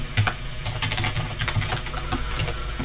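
Code is typed on a computer keyboard in quick, uneven bursts of light clicking keystrokes, fairly close and alone over a low background hum.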